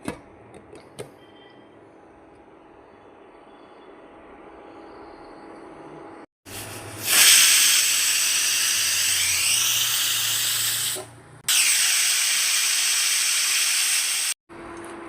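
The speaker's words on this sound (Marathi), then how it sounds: "3 ते 4 शिट्ट्या करून घेऊ." A pressure cooker cooking wheat porridge lets off steam in two loud, sustained whistling hisses, each a few seconds long, after a quiet stretch of low kitchen background.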